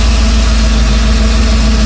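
A car engine idles loudly close by with a steady low rumble that holds an even pitch, running at around 40 pounds of oil pressure with no check engine light.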